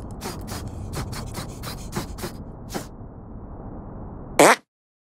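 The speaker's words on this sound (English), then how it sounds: "Make your fart detonate behind me." A brief, loud, noisy burst of a fart sound effect from the video game South Park: The Stick of Truth, arriving near the end after a stretch of quieter rustling clicks and followed by silence.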